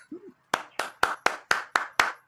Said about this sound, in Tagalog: Palakpak naman yan.